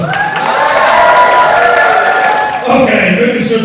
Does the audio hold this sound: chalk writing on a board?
no